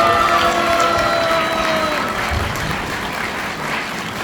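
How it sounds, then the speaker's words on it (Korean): An audience applauding at a book launch event in Daegu, a sustained even clapping from a sizable crowd, steady and moderately close throughout. "원로 언론인이면서 출판계의 정말로 산정인이신 김원호 선생님께 한 번 더 박수 부탁드립니다."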